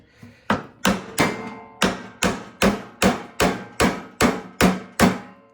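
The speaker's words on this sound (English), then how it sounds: "Just take a sledgehammer and beat it over some." A sledgehammer beating the metal housing of a Troy-Bilt snowblower, about a dozen loud, evenly spaced ringing whacks, each fading quickly before the next blow, with no talk.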